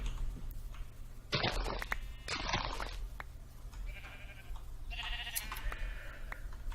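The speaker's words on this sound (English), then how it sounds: "So where are you, sheeps?" Minecraft sheep bleat in short wavering calls, two loud close bleats early followed by softer, more distant ones, over a quiet, low ambient background.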